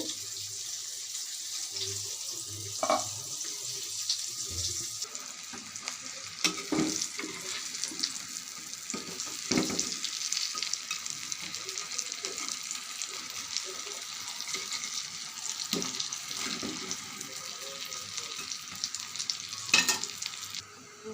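Pieces of rui fish sizzle and crackle steadily in hot oil, a continuous frying hiss with occasional louder pops and a few scattered kitchen clatters, close and moderately loud.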